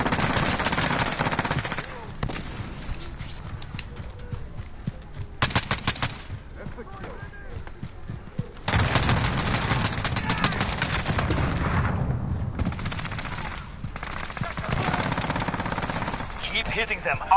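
Call of Duty Modern Warfare gunfire rattles in long, dense automatic bursts with brief pauses between them, loud and close, while a voice talks at times underneath.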